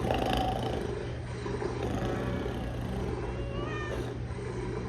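A mountain lion gives a low, steady rumbling growl close by, continuing throughout against quiet outdoor background noise.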